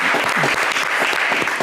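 Dense, steady clapping from a studio audience on a French-language game show, with a brief voice heard faintly under the applause.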